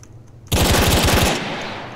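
A video game machine gun fires a fast, loud burst of about a second, then rings out into a fading tail, with no talk.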